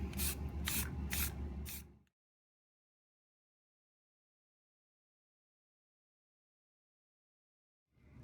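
Thick primer paint sprayed onto a scratched, gutter-rashed alloy mag wheel, heard as a loud hissing spray with a few short rhythmic bursts, then silence.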